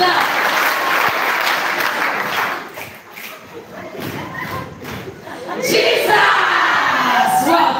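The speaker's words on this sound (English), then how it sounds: "Clap for Jesus if you believe that." A crowd claps steadily at a live event at St. Padre Pio Shrine, Kabulamuliro, loud and dense, with a brief lull in the middle before the clapping swells again, mixed with some shouts.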